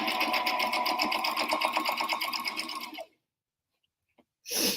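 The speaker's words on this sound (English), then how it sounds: "make sure that you're lined up with your sewing needle as you go." A sewing machine stitches fabric for an apron in a fast, even whirring rattle for about three seconds, then stops into silence before a short burst of another noise at the end.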